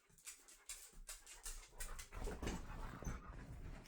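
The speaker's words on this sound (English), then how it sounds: "Oh, puppy dog. Hi, puppy dog." A dog pants and whimpers close by, quick rhythmic breaths mixed with soft high whines, building in intensity over a few seconds in a quiet room.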